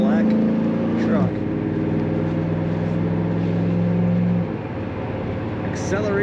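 A 2005 Chevrolet SSR retractable-hardtop truck accelerating, its engine droning steadily with a gear change partway through and the pitch dropping near the end, heard from inside the cab with a voice talking over it.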